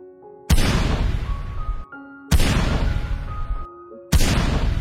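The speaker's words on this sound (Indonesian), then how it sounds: "Suara tembakan yang memekakan telinga lebih berarti daripada 1000 kata" Three loud, booming gunshots spaced about two seconds apart, each followed by a long ringing decay, with a faint tone audible in the gaps.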